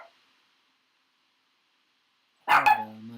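After near silence, a dog lets out one sharp bark near the end, followed by a short whining, ringing tail.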